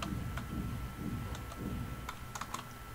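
Typing on a computer keyboard: a run of soft, close key clicks in an uneven rhythm over low background hum, with no voices.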